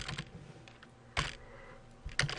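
A few light clicks of keys typed on a computer keyboard while programming a VEX robot, spaced out with quiet gaps, close and faint.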